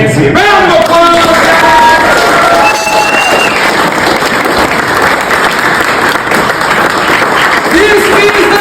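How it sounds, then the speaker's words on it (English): Loud, dense crowd applause with scattered cheers and whoops from a level 1 and level 2 class, sustained for the full length, while a few voices rise over it early on. "Round of applause!"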